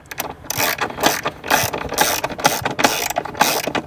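Rapid ratchet clicking, close and loud, as an aluminium battery tray is tightened into the battery tray of a Porsche 991.2 GT3, in repeated quick bursts of pawl clicks.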